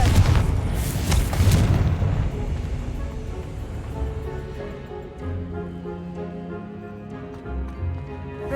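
Fire spell Confringo cast in Hogwarts Legacy: a deep booming blast opens the clip, then rumbling crackle fades into a low sustained game soundscape with tonal music-like hum.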